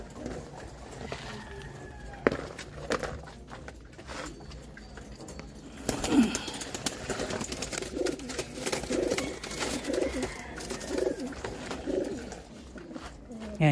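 Pigeons coo repeatedly from close range in a breeder cage, a steady run of soft rhythmic calls with bursts of wing flutter and shuffling, with occasional talk over them.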